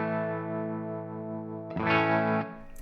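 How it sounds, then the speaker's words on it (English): Enya Inspire smart guitar with its built-in tremolo engaged, a held chord pulsing gently at a steady rate, then a louder freshly struck chord that rings briefly before fading, close and alone without talk. "also has a tremolo"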